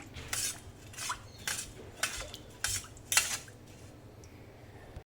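A spoon stirs ghee and cloves into dal in a metal pot, making five or six rhythmic scraping clinks against the vessel, close and moderately quiet.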